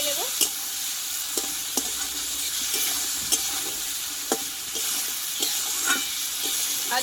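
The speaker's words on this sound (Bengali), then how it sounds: "এই মশলার সঙ্গে একটু পটলটা আমি আরও কিছুক্ষণ মতো কষিয়ে নেব।" Pointed gourd (potol) sizzles steadily in a spice masala while a spatula scrapes and stirs the pan, giving sharp periodic clicks over a continuous frying hiss, close and fairly loud.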